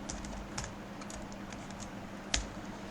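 Quick, light keystrokes on a computer keyboard while C++ code is typed, a steady patter of soft taps with one sharper clack near the end, close and alone without talk.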